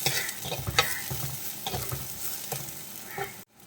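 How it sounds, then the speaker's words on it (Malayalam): Thinly sliced onion sautés in a pan for a tuna coconut milk curry, with a steady close sizzle and repeated scraping stir strokes, cutting off abruptly at the end. "ഇത് നന്നായിട്ടൊന്ന് വഴറ്റിയെടുക്കാം"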